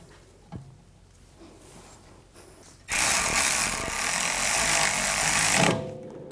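A ratchet or power driver tightens the rear brake caliper bolts on a 2010-2014 Volkswagen GTI, a loud close buzzing burst of about three seconds after a quiet stretch with a single click.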